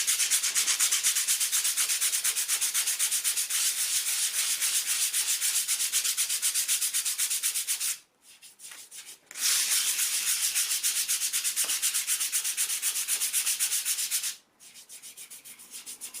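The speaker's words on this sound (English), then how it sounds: "just enough to sand it and get it flush with the rest of the wall" Filler patches on a plasterboard bedroom wall are sanded flush by hand, giving a steady, close, scratchy rubbing that runs continuously with two brief pauses, the second followed by lighter strokes.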